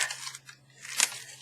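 Scissors snip through recycled envelope paper in two short, crisp cuts with a pause between, close and clear, with no talk.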